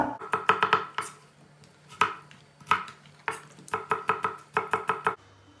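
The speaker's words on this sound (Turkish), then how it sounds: "Tavuğu nasıl doğradıysak havucunu patatesini de o şekilde doğrayacağız." A knife chops carrots and potatoes on a cutting board in quick bursts of rapid taps, pausing between runs, close and clear with no voices.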